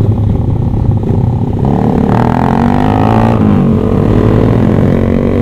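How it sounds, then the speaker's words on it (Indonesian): A young rider's Kawasaki ZX-25R, fitted with an aftermarket exhaust, revs on a night street in Banda Aceh. The engine note is loud and continuous and climbs in pitch partway through, with other bikes and traffic rumbling close by. "Aulia gacor banget sih knalpotnya."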